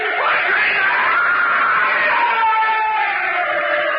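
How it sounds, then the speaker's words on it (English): A man screams at length in a radio drama adaptation of The Cask of Amontillado, a loud, sustained, wavering cry that fills the whole stretch without break. "He began to scream."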